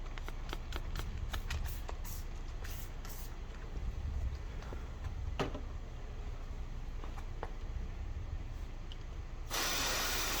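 Short, repeated hissing sprays of CarPro Hydro2 spray-and-rinse sealant on car glass in quick bursts, followed after a pause by a louder, sustained spray near the end, over steady low background noise.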